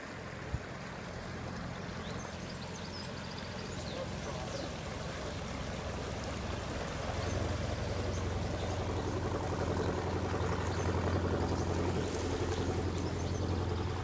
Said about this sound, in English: That's the first GRP boat I've seen this year.